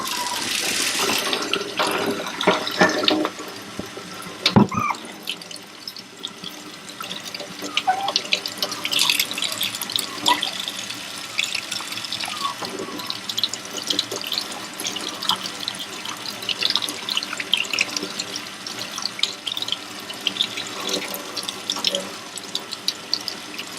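Water running from a tap for an Aussiedoodle puppy's bath, a continuous close splashing flow with a few sharp knocks and drips early on.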